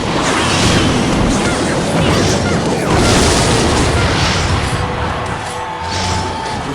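A rocket spell detonating in a Clash Royale battle, a loud sustained crashing roar with dense crackle and rumble that carries on for several seconds over the game's background.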